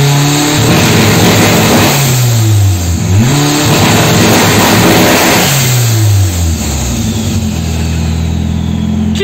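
Turbocharged car engine on two-step launch control, loud and close: sustained high revving with pitch sweeping up and down and a rough, popping edge, holding steadily for about nine seconds with no talk.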